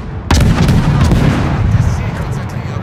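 A sudden loud boom of naval gunfire in World of Warships, the heavy blast ringing and rumbling on for more than two seconds while a voice talks faintly underneath.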